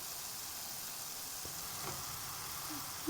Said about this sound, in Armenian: Ու շարունակում ենք այնքան տապակել, որ միսը և սունկը արդեն լավ եփված ու չոր վիճակում լինեն